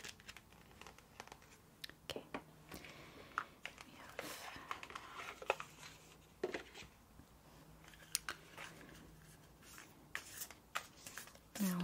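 An oracle card deck is shuffled in soft, quick bursts of riffling and sliding, close by and quiet, with faint rustling between the bursts.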